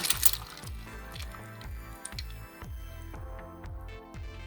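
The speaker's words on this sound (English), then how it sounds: "Now we'll give it a quick stir" Italian sausage soup being stirred in a pot, giving a wet, squishy churn of liquid with soft repeated sloshing pulses at a steady pace, close and moderately quiet with no voices.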